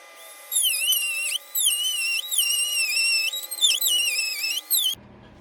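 A power tool trims the plastic bumper of a 2024 Subaru Crosstrek during a front bumper install, giving a high, whining tone that rises and dips in several sustained passes over about four seconds, then stops abruptly.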